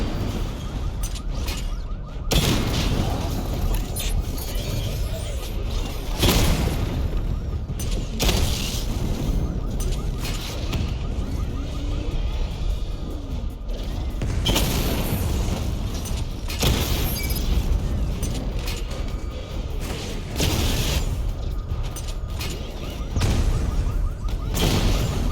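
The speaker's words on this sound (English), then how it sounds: "Charge up missile barrage to level 2 and destroy 4 active targets to complete diagnostic test" Missile barrage explosions striking targets in Batman Arkham Knight, a steady wash of booming impacts, mechanical clatter and shattering debris layered densely and loudly over the whole stretch without pause.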